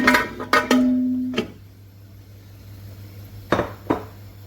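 Yeast and salt go into the pan of a Panasonic SD-2500 breadmaker, with a few sharp metallic clinks and taps close by, then a quiet pause before two more clinks.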